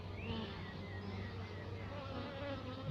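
Honey bees buzzing in front of their hives at an apiary, a steady, faint, dense hum of many insects droning close by throughout, with no voices.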